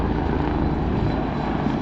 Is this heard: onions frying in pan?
no